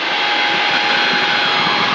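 A Pitts S2C aerobatic plane's engine roars loudly and steadily from close by for the full two seconds, a dense continuous drone with no voices over it.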